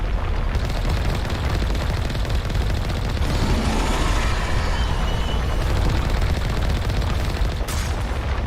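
Turret gunfire in Mass Effect 1 Legendary Edition rattles in a continuous, heavy barrage of rapid shots and booming impacts, loud and unbroken across the whole stretch.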